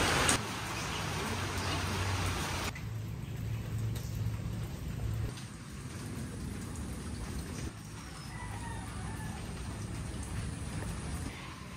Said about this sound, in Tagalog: palakas na po ng palakas ang ulan